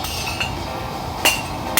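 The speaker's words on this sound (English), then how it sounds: "tap it firmly with a hammer like this one, 2-pound sledge" A 2-pound sledgehammer strikes a race driver to knock out a wheel bearing race, giving two sharp metallic clinks with ringing tails over a steady background hum.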